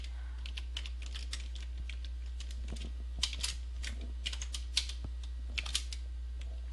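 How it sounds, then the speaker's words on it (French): Computer keyboard typing data into an Excel spreadsheet: quick irregular bursts of light key clicks with a few sharper strikes, close by over a steady low electrical hum, with no voices. "je pourrais taper les données manuellement"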